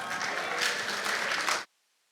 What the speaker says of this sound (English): Can you give them, please, a round of applause?